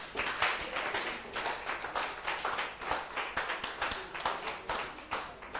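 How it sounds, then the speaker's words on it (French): A church congregation claps in a dense burst of many hands, steady and fairly loud, with individual claps standing out in a quick irregular rhythm. "Applaudissez pour vous-même alors."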